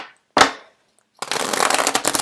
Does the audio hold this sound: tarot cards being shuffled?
yes